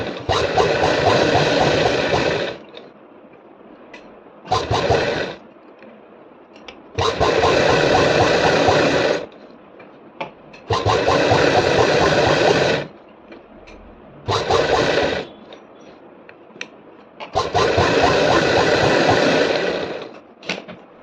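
A sewing machine stitches saree fabric in repeated bursts of steady whirring, each run lasting a few seconds and separated by short quiet pauses. The machine is close and fairly loud.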